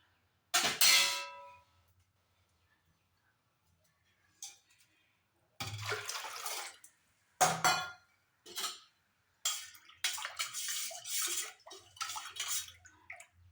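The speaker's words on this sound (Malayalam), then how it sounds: "ഇനി ഇതിനകത്തോട്ട് വേണമെങ്കിൽ കുറച്ച് വെള്ളം കൂടെ നമുക്ക് ചേർത്ത് കൊടുക്കാം" Water is poured into a spicy lemon juice mixture with ginger, mint and salt, coming in several separate splashing bursts with silent pauses between them.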